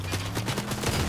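Rapid bursts of gunfire in the battle royale game Fortnite, a quick regular string of shots filling the whole short moment at steady loudness with no talking over it.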